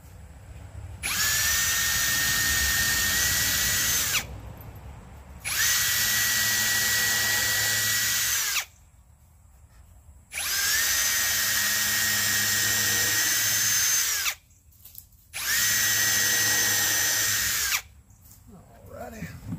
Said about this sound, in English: And now I'm going to pre-drill my holes.